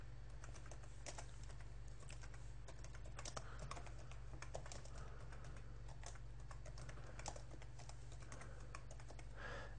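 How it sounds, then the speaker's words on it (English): Fingers tap out an address on a computer keyboard in quick, irregular bursts of light key clicks, close but soft over a low steady hum. "So all I have to do now is type in an address."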